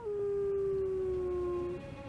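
A lone white wolf howls to call her mate: one long, steady, slightly falling note that carries for nearly two seconds over a faint rumbling background.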